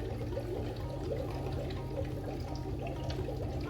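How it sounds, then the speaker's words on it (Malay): Water drains from a betta fish tank with a steady, soft trickling and gurgling flow, faint and continuous throughout. "saya dah rendahkan air dia"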